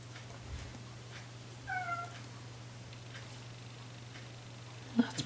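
A pet cat gives one short meow indoors during a quiet drawing session. It is moderately close but fairly soft over a steady low electrical hum, with a small tap near the end.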